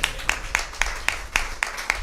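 An audience claps in a slow, even rhythm, about eight distinct claps over two seconds, moderately loud and close, with nothing else prominent.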